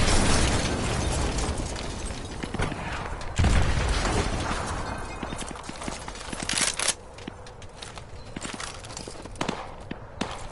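Explosions of a destroyed SAM site in Call of Duty: Modern Warfare 2 Remastered, heard as a loud, dense rumbling blast with a sharp burst near the middle, followed by crackling debris and mechanical clatter that slowly thins out.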